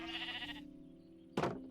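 Sheep bleating in a pen in a Minecraft modpack game, a harmonic bleat followed after a pause by a second, sharper bleat, with a faint steady game tone underneath.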